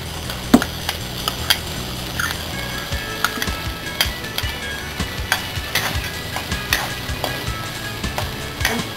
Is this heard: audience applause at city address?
no